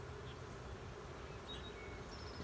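Dense, steady buzzing of honey bees crowding a frame of a nuc colony during hive installation, a close, continuous drone with no pauses.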